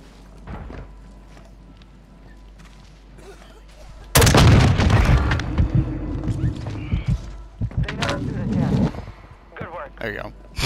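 A loud rocket launcher explosion bursts in Call of Duty: Modern Warfare II, followed by rumbling booms and bursts of gunfire, with voices talking over the in-game noise.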